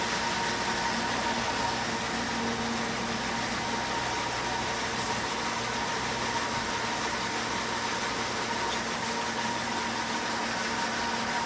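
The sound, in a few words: commercial dishwasher running its rinse cycle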